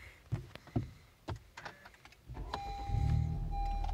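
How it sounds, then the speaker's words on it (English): Cabin clicks and button presses lead into a Honda Civic Type R starting up, an electronic hum rising before the engine catches into a steady low idle, close by. "Let's turn this Type R on"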